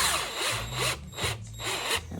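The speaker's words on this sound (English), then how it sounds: "So now I'm just gonna take my drill again. I'm gonna fire it up into here" A power drill whirs close by in short bursts, its motor pitch rising and dipping as it starts and stops several times.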